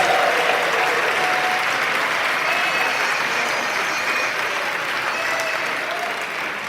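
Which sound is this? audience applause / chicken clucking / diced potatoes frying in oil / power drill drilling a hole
audience applause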